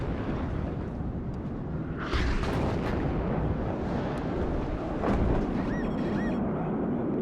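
Rocket explosions from an SU-25 strike in the WARNO war game come as a dense rumbling barrage, with heavier blasts landing around the second and fifth seconds over a constant roar of battle.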